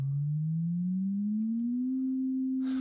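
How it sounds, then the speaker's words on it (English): A pure sine wave tone glides smoothly upward in pitch, rising by an octave over a few seconds, steady and clean, alone with no other sounds until a faint rustle at the very end. "If I was to increase the frequency of this sine wave, so like before, I'll raise it by an octave."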